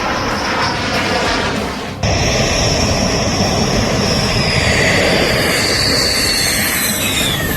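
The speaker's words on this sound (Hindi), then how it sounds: "भारतीय वायुसेना के तरकश में 5 राफेल लड़ाकू विमान आ गए।" Rafale fighter jets arrive over Ambala airbase with a loud, sustained engine roar that drops briefly, then swells again into a broad, close jet rumble with rising whine.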